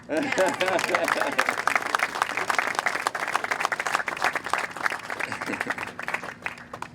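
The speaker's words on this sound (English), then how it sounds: "Can we clap for that?" Audience clapping at an outdoor Annapolis City Dock groundbreaking ceremony, a dense round of applause from a crowd that swells, holds steady and thins toward the end, with a voice briefly audible early on.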